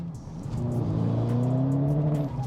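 An Edition 30 car engine revs hard through a loud, raspy Trackslag aftermarket exhaust, a deep sustained drone rising in pitch, close and steady for the whole stretch.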